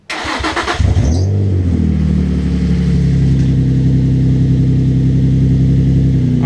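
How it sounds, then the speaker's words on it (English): A Nissan 350Z fires up with a sharp cranking burst, then catches and settles into a loud, steady idle with a deep, even engine rumble close to the microphone. "I don't know if the startup of this car has ever been on film"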